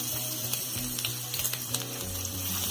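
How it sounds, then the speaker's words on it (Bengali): Chopped onions dropped into hot oil in a wok give off a soft, steady sizzle, faint and close, with light stirring clatter over a low background hum and no talking. "তেলটা গরম হয়ে গেছে, পেঁয়াজ দিয়ে দিচ্ছি,"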